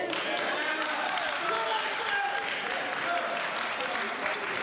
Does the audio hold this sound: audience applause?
yes